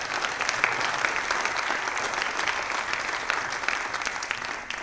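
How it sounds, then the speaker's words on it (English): Applause for the commentators at a squash event, a crowd clapping steadily and warmly at moderate loudness for several seconds, fading slightly at the end. "So big round of applause for them."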